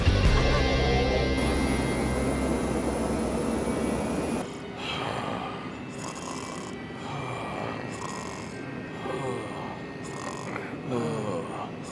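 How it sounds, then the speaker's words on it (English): A cartoon airplane engine drones loudly and continuously, with shifting, pulsing noise in the latter half. "Stop this plane!"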